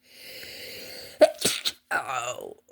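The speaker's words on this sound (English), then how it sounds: "I'm going to sneeze." A person sneezes up close after a drawn-in breath, the sharp burst followed by a short vocal exhale and murmuring.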